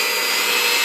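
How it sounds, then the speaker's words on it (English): An electric mixer whirs continuously through ginger snap cookie dough, a loud close steady motor hum with no pauses. "turn back on my mixer until we get to the next half"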